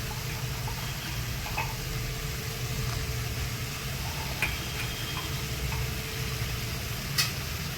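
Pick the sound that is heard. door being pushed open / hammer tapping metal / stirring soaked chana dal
stirring soaked chana dal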